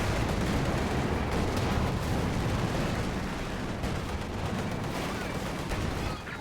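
Frag bomb explosions and dense gunfire in a video game battle roar as a loud, continuous barrage of overlapping blasts and shots that barely lets up for several seconds.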